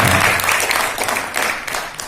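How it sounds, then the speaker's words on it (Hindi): Audience applause welcoming poet Anwar Aman at a Hindi kavi sammelan marking an organisation's silver jubilee, a brief burst of crowd clapping that swells and then thins over about two seconds. "तालियां बजाकर स्वागत कीजिए अनवर अमान साहब"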